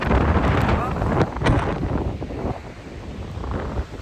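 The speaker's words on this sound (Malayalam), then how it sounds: "ഈ കാറ്റടിക്കുന്നത് ഭയങ്കര തണുത്ത കാറ്റാണ് അടിക്കുന്നത്" Cold wind gusts at Montmorency waterfall in Quebec, roaring and buffeting the microphone as a broad, rumbling rush that swells and eases, loud and close throughout.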